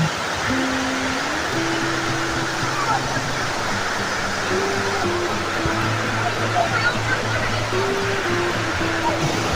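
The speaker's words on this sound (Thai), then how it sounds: "บรรยากาศหน้าน้ำตกนะครับ" Rushing water pours steadily over a waterfall in Kanchanaburi, Thailand, a broad, constant roar heard close by, with people talking and children playing over it throughout.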